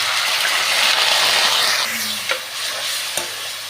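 Garlic and onion frying in hot mustard oil, a steady loud sizzle with stirring scrapes and a couple of sharp utensil knocks near the end.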